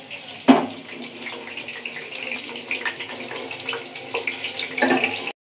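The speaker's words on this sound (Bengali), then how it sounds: "আর আমি ওদিকে চপ ভাজছি।" Chops frying in a pan at home, a soft continuous sizzle and bubbling with occasional sharp clatters of a utensil, close and moderately quiet, without talk.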